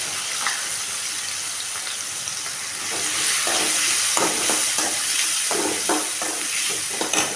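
Onions sizzle and fry in a pan in a Tamil home kitchen, cooking for a snake gourd kootu, with a steady hiss and repeated scraping stirs picking up toward the end, close and without talk.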